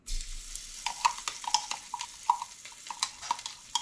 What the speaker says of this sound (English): we're going to add some tomato paste in here